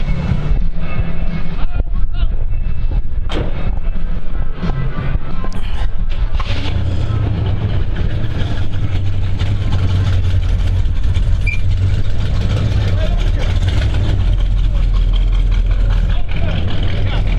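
A car's low engine rumble starts partway through and keeps running steadily, loud and close, at a car rally, with people talking over it.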